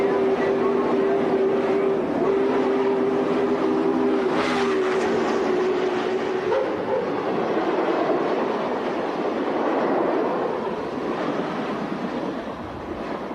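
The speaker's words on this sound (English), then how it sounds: "watch that perfect example of the Industrial Revolution, a steam engine roar by" Challenger 3985 steam locomotive roaring past on a 1990 River City Roundup excursion: a loud, steady broadband rumble with a sustained whistle-like tone over the first several seconds, then continuing heavy roar close by.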